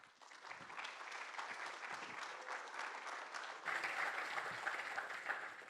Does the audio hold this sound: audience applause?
yes